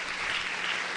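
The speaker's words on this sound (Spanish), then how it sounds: "Dale un aplauso al Rey bendito" A church congregation applauds, a steady, even patter of many hands clapping that lasts about a second with no voice over it.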